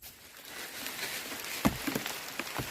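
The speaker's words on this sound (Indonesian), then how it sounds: "Aduh, hujan." Rain falls in a forest at a fishing spot, making a soft, steady hiss with a few scattered drop patters nearby and no voices.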